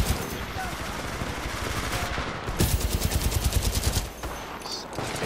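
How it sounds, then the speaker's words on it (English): Gunfire from a 3-round burst weapon in the shooter game Titanfall, rapid repeated shots in a steady clustered rhythm, loud and close over a busy game soundscape. "I didn't like the 3-round burst gun."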